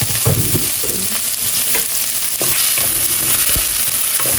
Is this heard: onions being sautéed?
yes